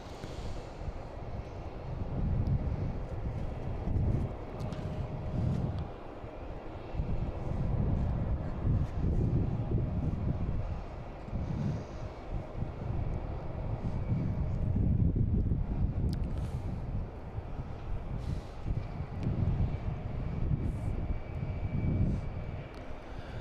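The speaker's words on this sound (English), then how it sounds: "we got an A320 Delta taking off, heading to Minneapolis" A Delta Airbus A320 takes off at Boston Logan International Airport, bound for Minneapolis: a steady, loud jet engine roar lasting throughout, with gusts of wind buffeting the microphone.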